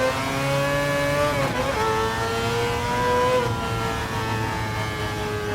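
A race car in a racing video game drives a fast lap on the DGT Saint Croix A track, its engine howling steadily at high revs with brief dips and rises in pitch as gears change, loud and continuous.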